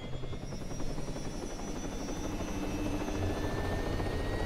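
A helicopter's rotor thumping and engine whine in the video game Arma 3, steady and close, with a rapid rhythmic chop throughout and no talking.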